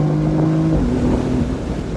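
An F82 BMW M4 engine accelerates hard through a canyon, a loud, close, sustained engine note rising in pitch as it pulls, with no talk over it.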